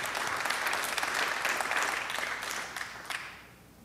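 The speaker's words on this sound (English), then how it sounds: "Once again, a round of applause." Conference audience gives a round of loud, continuous applause that holds steady for a few seconds and then tapers off.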